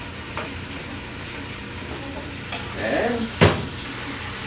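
Sweet basil sautéing in a pan for tomato sauce gives a brief sizzle and stirring scrape near the end, capped by a sharp utensil clack, over a steady low kitchen hum; a single spoken word is heard.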